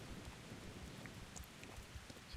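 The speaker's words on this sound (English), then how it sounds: "dark and rainy night" Rain falls at night in the medieval world of Kingdom Come: Deliverance, a soft continuous patter with scattered drip accents at a low, even level and no talking.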